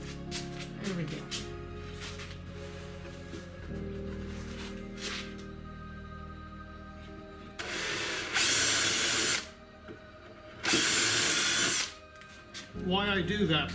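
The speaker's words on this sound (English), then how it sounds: "as you're pushing the drill in" After a stretch of low clatter, a power drill roars in two strong bursts, drilling through material close by, then winds down.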